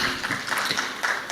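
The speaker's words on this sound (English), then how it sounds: "Please let's keep clapping." Brief burst of audience clapping at a conference session, a dense patter of hands that is short and moderately loud.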